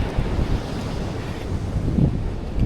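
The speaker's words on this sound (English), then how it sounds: "The waves are way stronger than when I go to the beach over there." Strong Pacific Ocean waves pound a Baja beach in Mexico, a loud rumbling roar of surf mixed with heavy wind gusts hitting the microphone, swelling near the end, with no speech.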